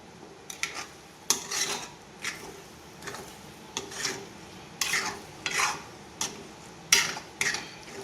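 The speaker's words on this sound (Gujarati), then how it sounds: "હવે આપણે બધું મિક્સ કરી દઈશું." Sabudana khichdi being stirred in a pan, with irregular bursts of utensil scraping and clinking against the metal, each stroke brief and fairly close, a soft sizzle faintly underneath and no voices.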